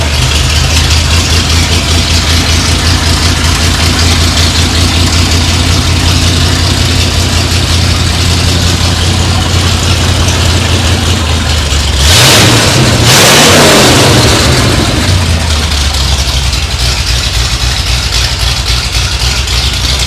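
A hot rod engine, fed by carburetors, runs loud and close at a steady rumbling idle, then surges through a sharp rev around the middle before settling back to idle.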